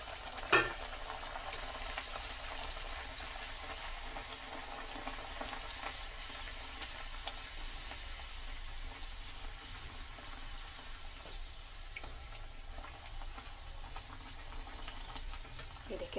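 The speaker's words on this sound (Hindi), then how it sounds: "अब इसको डालेंगे हम ऑयल में" A stuffed dal puri slides into hot oil and fries with a soft, steady bubbling sizzle, fairly quiet and even, broken by a few light clicks of a utensil.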